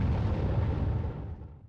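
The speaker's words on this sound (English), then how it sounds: "we heard explosions" A single deep explosion booms in the Tales of Vesperia video game, a loud low rumbling blast that rolls out and fades over about two seconds, with no talk over it.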